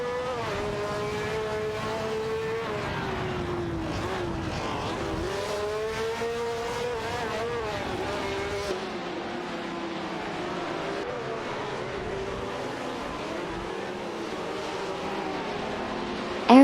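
Race car engines in an AI racing video game, including a Ferrari 312, whine at high pitch with rising and falling revs as cars shift gears and battle closely. The sound is continuous and moderately loud.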